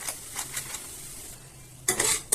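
Ginger, garlic, tomato, chilli paste and spices fry in an oil-free pan for a rohu fish curry. Soft sizzling is broken by a few stirring scrapes, and a louder burst of frying and spoon-on-pan noise comes near the end.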